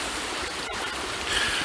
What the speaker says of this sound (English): along the creek that runs through Miquin Woods.